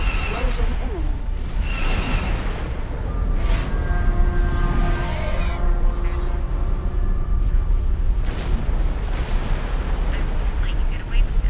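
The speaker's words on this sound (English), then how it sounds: "Explosion imminent." Explosions in the space game X4 Foundations, played with the Star Wars Interworlds campaign: deep rumbling blasts and bursts with whooshing debris, loud and sustained, with a few sharp cracks.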